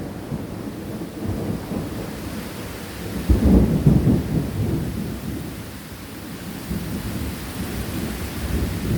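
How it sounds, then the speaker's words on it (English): Deep rolling thunder from a summer storm in Washington, DC, rumbling low and swelling midway over steady heavy rain, with no voices. "And the thunder has just been insane. It rocks the whole house."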